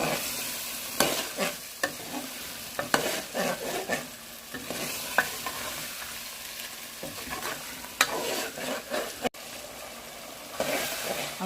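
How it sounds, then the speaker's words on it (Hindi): Taro root (arvi) coated in masala fries in a pan, a lively sizzle broken by repeated clattering stirs and scrapes of the spoon, close and fairly loud, with no talk. "3 से 4 मिनट तक भूनेंगे।"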